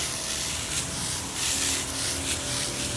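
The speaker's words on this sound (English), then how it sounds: "you can spray the top and spray the bottom" A sprayer mists foliar feed onto plant leaves outdoors, producing a steady hissing spray with soft surges over about three seconds, close by and moderately loud.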